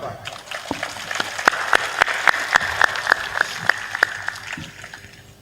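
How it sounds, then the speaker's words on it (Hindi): Claps at a spiritual discourse by Sant Shri Asang Dev Ji, ringing out in a fairly steady rhythm of sharp strikes over a few seconds, moderately loud against a murmuring hall. "ताली बजा दो एक बार।"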